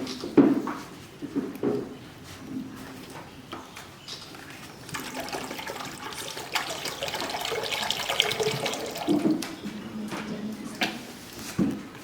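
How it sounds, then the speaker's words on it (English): Distilled water, one liter, poured into a steel container, a continuous splashing, gurgling stream running most of the twelve seconds with a few louder bursts, close and fairly loud with no talk. "In a steel container, take 1 liter distilled water."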